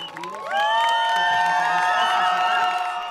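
A crowd erupts in joyful cheering outside the Greek Parliament after a vote result on marriage and adoption rights, with sustained whistles and shouts rising loudly and holding steady.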